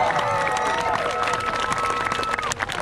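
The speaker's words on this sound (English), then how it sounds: "Please join me in sending a massive round of applause all the way up 25" A crowd at a cliff diving show applauds and cheers for a diver standing 25 metres up, a steady wash of clapping and voices from many people filling the open air.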